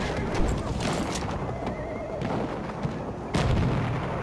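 A horse whinnies in a Battlefield 1 Conquest match on the Ballroom Blitz map, with hoof clatter and distant booms of gunfire mixed into the busy battle noise.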